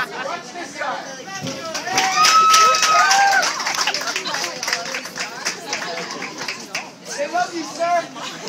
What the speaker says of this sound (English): When the new people get on, everyone clap for them